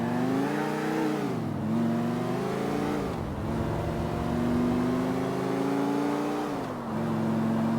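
Car engine in GTA IV holding a steady mid-pitched drone, with gear shifts dipping the pitch around every few seconds before it climbs again, close and continuous while driving.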